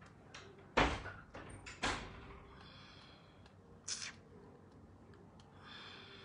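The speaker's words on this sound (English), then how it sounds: "Please close my door." A door is pushed shut indoors, giving a few soft thuds and clicks spread over several seconds, quiet and somewhat distant, with no one speaking.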